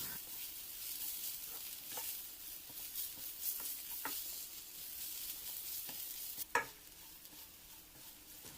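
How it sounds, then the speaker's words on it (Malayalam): Onions sauté in a pan with ginger, garlic, green chillies and pepper powder, sizzling softly and steadily while a spoon stirs and taps the pan at intervals, one tap sharper than the rest. "1 ടീസ്പൂൺ കുരുമുളക് പൊടി കൂടി ചേർത്ത് നല്ലപോലെ വഴറ്റിയെടുക്കണം"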